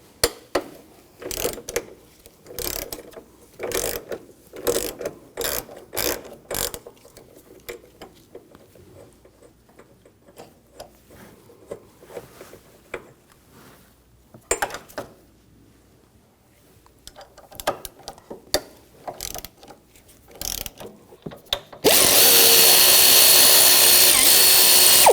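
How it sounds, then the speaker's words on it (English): A hand ratchet fitted with a 13mm socket works the strut mount nuts off a 2007-2013 BMW X5 in quick bursts of clicking with pauses between them, and a steady loud noise takes over near the end. "Now using a 13mm socket, we're going to take these nuts out."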